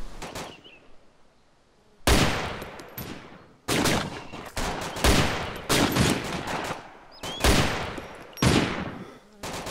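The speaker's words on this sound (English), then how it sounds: "I'll shoot the 50 cal gunner, and then we'll start picking those guys off." Gunfire in the Arma 2 DayZ video game during an ambush, with a .50 caliber gunner, machine guns and sniper rifles: repeated loud, sharp shots and bursts with echoing tails after a quiet start.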